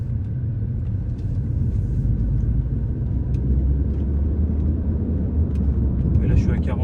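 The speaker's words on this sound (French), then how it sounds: "Donc là, dans le rond-point, je vais accélérer un petit peu." An Audi A3 S-line Sportback accelerates gently through a roundabout, its engine and road noise forming a steady low rumble inside the cabin, with someone talking over it.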